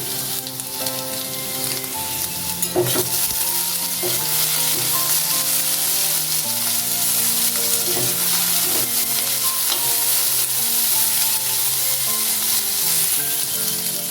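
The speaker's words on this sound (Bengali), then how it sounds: "কারি পাতা দিয়ে কিছুক্ষণ ভেজে নেওয়ার পর নুন দিয়ে দিচ্ছি।" Potatoes fried with poppy seeds, curry leaves and black mustard seeds in hot oil, a loud, continuous dense sizzle with occasional stirring scrapes, close up and without talking throughout.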